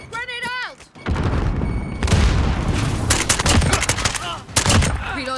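In a video game, a grenade is thrown and explodes among bursts of rapid gunfire, with heavy blasts and rattling shots packed closely together after a short tonal sound at the start.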